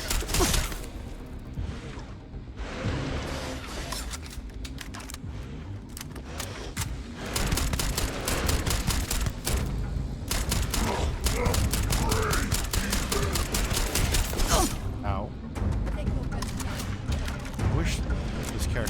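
Sustained gunfire in the sci-fi shooter Starfield: Shattered Space, with dense bursts of rapid shots running nearly nonstop, loud and close, under intermittent talk.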